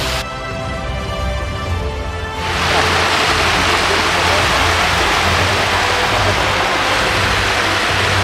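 A loud, steady roar of falling water from the Cascada del Toro y Agua waterfall fills the scene, a broad hiss that swells after a quieter opening and then holds constant.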